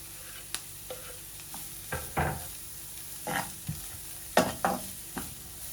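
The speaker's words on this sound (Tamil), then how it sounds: "இப்போ இந்த கோவாவோட நான் எடுத்து வச்சிருக்கிற இந்த கேரட்டையும் போட்டு வதக்க போகிறேன்." Cabbage, carrot and onion sautéing in a pan, with a low background sizzle and a series of separate scraping stirs of the spatula at irregular intervals, close and fairly quiet.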